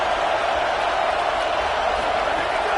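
A home stadium crowd roars steadily at a Texas versus LSU football game as the defense faces third down, a dense, sustained wall of cheering.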